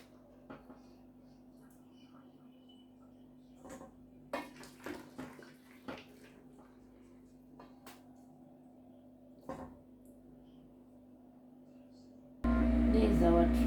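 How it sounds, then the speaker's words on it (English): A serving spoon scoops drained lamb tripe (matumbo) into a separate bowl, giving faint scattered clinks and scrapes over a steady low hum, before a loud noise burst at the end. "So I'm just gonna take my serving spoon, put them on a separate bowl"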